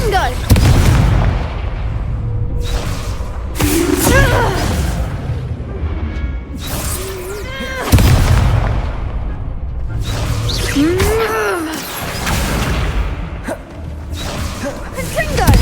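Confringo explosive spell blasts in a Harry Potter video game, several loud booming impacts with whooshes and crackling debris spread across the stretch, close and forceful amid other spell effects and short spoken outbursts.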